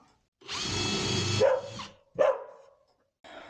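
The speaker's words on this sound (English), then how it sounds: "That's a dull drill bit." A power drill with a dull bit whines steadily for about a second, then bogs and grinds as it strains, followed by a short second burst.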